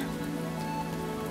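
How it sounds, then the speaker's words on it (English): Steady rain pattering on a surface, a dense even hiss of raindrops with no voices, continuous throughout the short stretch. "Listen to the rain"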